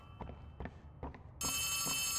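Telephone ringing in the horror video game Poppy Playtime Chapter 3: a few soft footstep taps, then a bright, sustained electronic ring cuts in loudly and holds.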